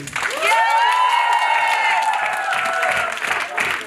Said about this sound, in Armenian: Ուզում եմ այդպես բարձր ծափահարենք։